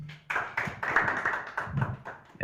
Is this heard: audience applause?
yes